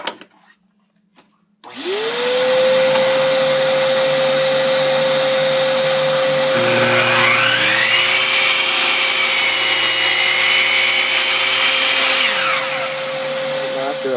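A rotary power tool runs steadily for about twelve seconds while trimming a plastic or wooden piece of a belt hanger, its loud whine shifting in pitch as the bit bites into the workpiece, with no talk.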